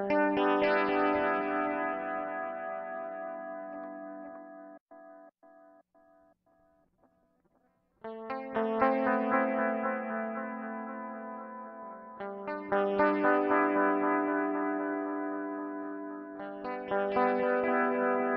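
Guitar through a Hotone Binary Eko delay pedal switching between Dream and 80 Eko modes: sustained chords with repeating echo tails that fade out, a near-silent gap, then fresh strums ringing with delay.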